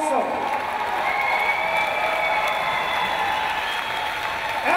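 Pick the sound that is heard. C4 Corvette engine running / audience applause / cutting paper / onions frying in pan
audience applause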